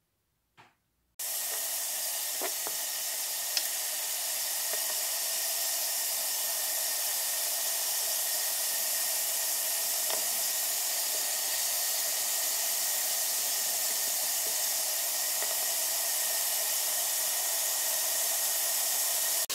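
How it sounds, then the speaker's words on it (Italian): Soffritto sautéing on high heat in a Cookeo pressure cooker, a steady broadband sizzle that starts abruptly after a brief quiet moment and holds evenly close-up, with a few faint clicks. "Ora andate su manuale, cottura normale, temperatura elevata e facciamo rosolare il soffritto"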